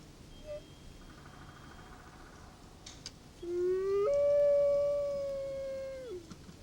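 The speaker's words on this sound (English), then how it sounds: "Wolves howl to discover if there's anybody else in their new domain." A lone Canadian wolf howl rises and holds a long wavering note before dropping off, with fainter howls and quiet ambience around it in the Rocky Mountains, distant and clear.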